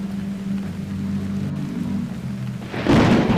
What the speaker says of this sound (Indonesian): nah itu barusan baru geledek tuh